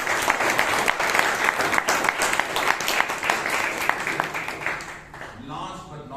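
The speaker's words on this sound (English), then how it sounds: "So please give him a big round of applause." An audience at a Toastmasters meeting breaks into a round of applause, dense clapping that holds steady and then fades out near the end, with a voice starting up as it dies away.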